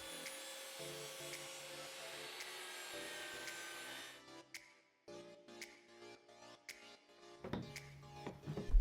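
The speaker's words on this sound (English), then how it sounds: "So doing some sanding" Oak wood for a small box-jointed box being sanded, a steady whirring rasp for several seconds that then breaks into quieter, intermittent scraping and knocks, moderately close with no talk.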